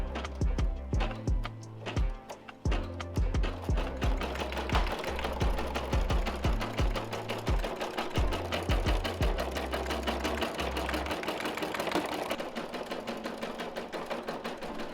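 An embroidery machine stitches a slap patch up close, its needle hammering in a fast steady rhythm with a loud mechanical whir, pausing briefly between runs early on before settling into continuous stitching.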